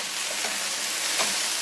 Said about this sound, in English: we leave it again to fry it more